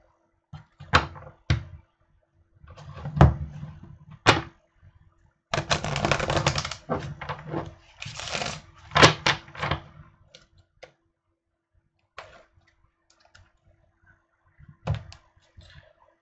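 Tarot cards being shuffled by hand in irregular bursts of papery riffles, snaps and taps, some dense flurries lasting a second or two, separated by quiet pauses, close and fairly crisp.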